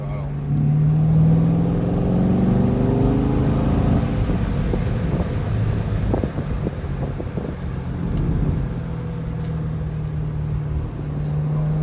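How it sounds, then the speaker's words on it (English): A car engine pulls along twisty roads in the Smokies, its droning hum rising and falling in pitch as the throttle changes, steady and close with wind buffeting the microphone throughout. "I'm just trying to listen to the throttle"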